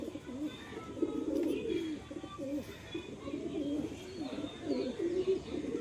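A male pigeon from a breeding loft coos steadily in repeated low rolling phrases, close and fairly loud, with faint chirps from other birds behind it.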